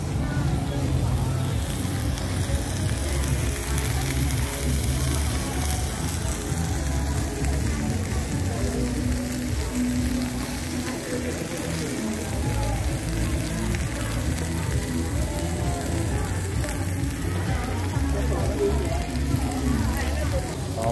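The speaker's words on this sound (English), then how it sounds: "Oh man, it's sizzling away." A continuous, crackling sizzle of meat cooking on a hot barbecue grill at a Hanoi street stall, steady and close, with street ambience around it.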